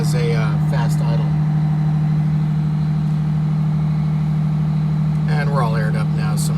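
A Detroit Diesel 6V92TA two-stroke engine holds a fast idle, a loud, steady low drone with a constant rumble that runs the whole time. Brief voices come in at the start and again near the end.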